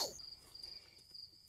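A cricket chirps steadily in a rhythmic high-pitched trill near a rattlesnake enclosure with a cactus, fairly close and alone against a quiet background.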